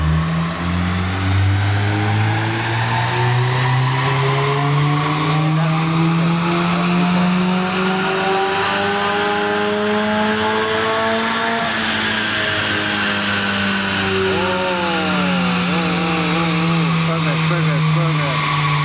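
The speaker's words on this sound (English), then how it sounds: "Listen out if you can hear the VTEC." A tuned car's engine revving hard under load, a loud continuous climbing engine note with a VTEC changeover, rising pitch then a shift and fluttering revs toward the end; a voice speaks briefly under it.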